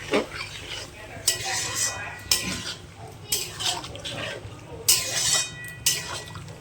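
Chicken sautés with yogurt in a pan, heard as repeated bursts of stirring with clinking utensil-on-pot knocks and wet sizzling between them, close and fairly loud.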